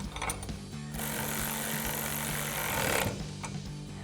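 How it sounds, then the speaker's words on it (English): An 11mm socket tightens a bolt during a lift kit install on a 2019-2024 Silverado 1500, giving a close, continuous whirring grind of about two seconds over a low steady hum. "now we're gonna take an 11mm socket and wrench to tighten that down"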